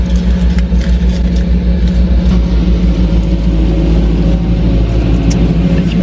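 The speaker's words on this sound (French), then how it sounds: "Il y a une espèce de camion qui va passer à côté de moi, j'ai un peu peur." A truck passes close by outdoors, a loud, continuous low engine rumble that holds steady throughout with no talking.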